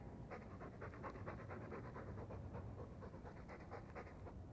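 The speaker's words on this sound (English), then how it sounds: "All that noisy dog breath, day in, day out." A dog in Dragon Age 2 keeps up fast, quiet panting, a steady stream of short breathy puffs heard alone from start to finish.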